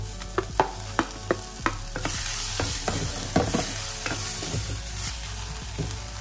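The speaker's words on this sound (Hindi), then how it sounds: "नेक्स्ट इसके अंदर मैं डालूंगी मेरे टमाटर" Tomatoes frying in a pan with onions, a few sharp spatula taps at first, then a steady close sizzle broken by occasional stirring scrapes, with no talking.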